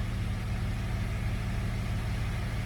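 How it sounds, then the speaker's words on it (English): A Jeep engine idling in a garage after sitting for two weeks, a steady low rumble that holds even and close for the whole stretch with no talk. "Listen to this Jeep. Oh, sounds so good."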